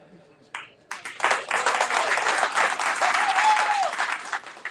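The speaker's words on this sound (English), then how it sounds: "Big round of applause." Crowd applause and clapping swell after a few brief sounds and continue steadily, with a voice partly audible over the clapping.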